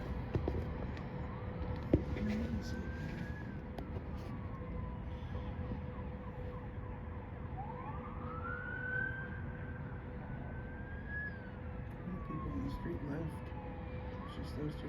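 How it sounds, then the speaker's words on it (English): Wailing sirens from arriving emergency vehicles — hook and ladder and battery fire trucks, an ambulance and police — sweep up and down over steady city traffic at a Los Angeles intersection, rising and falling continuously, with voices talking nearby. "you got main fire, hook and ladder fire truck, a battery fire truck, you got an ambulance, and there comes PD right now."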